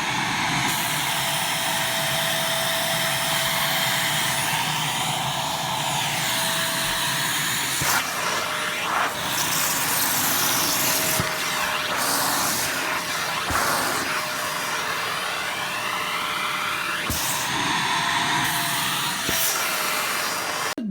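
A Shark vacuum cleaner runs steadily on a rug, a loud continuous motor whine and suction roar lasting throughout, with brief bumps and shifts in pitch as it is pushed across the pile.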